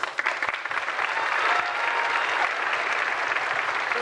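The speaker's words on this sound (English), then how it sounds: "I want to give a round of applause to our 8th grader volunteers" Parents and guests at a sixth-grade school band winter concert applaud eighth-grade volunteers, a full, continuous burst of clapping from a large crowd that swells early and then holds steady.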